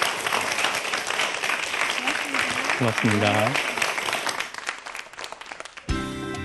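An audience applauds after a science lecture by a Seoul National University computer science professor, a broad steady wash of clapping, with a voice speaking over it and a brief musical sting near the end.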